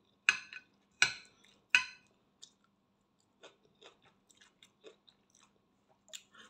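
Close, crisp crunching of salad being chewed, three loud bites in quick succession followed by a string of softer, scattered chews and small clicks in a quiet room.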